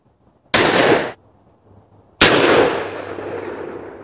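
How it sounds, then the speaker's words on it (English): Two loud black powder gun shots, the first cut short, the second a booming blast that rings out and decays slowly, with quiet background between. "Thanks for joining our Black Powder shooting extravaganza."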